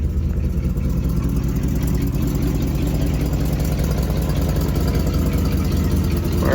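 A motor runs at a steady, rumbling idle, loud and close, with a constant low drone and no voices.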